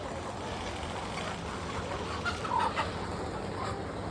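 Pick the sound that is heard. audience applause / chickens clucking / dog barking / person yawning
chickens clucking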